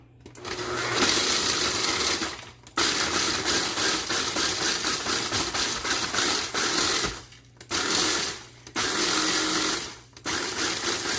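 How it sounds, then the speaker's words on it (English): A food processor pulses graham cracker crumbs for a cheesecake bar crust, running in loud bursts with three short pauses between them. "pulse this until they're all nice and chopped"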